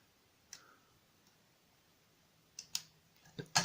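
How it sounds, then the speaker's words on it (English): Pins click inside an old East German padlock as it is picked, a few faint isolated ticks followed by louder clicks and rattles near the end, close and quiet with no talk. "Another little click."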